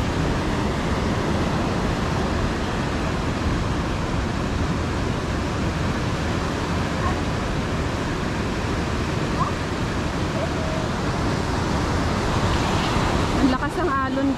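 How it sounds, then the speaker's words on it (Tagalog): Strong ocean waves pound a beach at Baler, Aurora, in the Philippines, a deep, continuous roar of surf that stays loud and steady throughout, with a brief rustle close by near the end. "Lakas ang alon"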